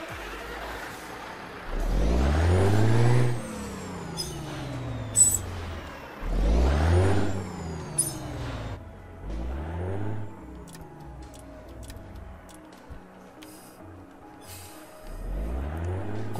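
Heavy truck engine sound from Euro Truck Simulator 2 revs up in repeated surges, each climbing and falling away, with a hiss of air brakes between pulls; loud and close.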